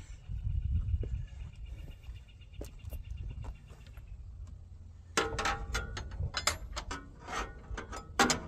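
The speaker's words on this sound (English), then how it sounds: "Now I'm working on tightening it up and getting the airlines hooked back up." Tools working on fittings and air lines of a new air suspension bag on an old Marmon truck. Quiet at first, then a burst of sharp metallic clicking and ratcheting that comes close and loud.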